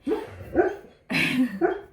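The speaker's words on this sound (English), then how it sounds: "I guess my dog is having a dream." A sleeping dog gives a few muffled barks and yips while dreaming, four short bursts close by with brief pauses between, soft and breathy rather than full alert barking.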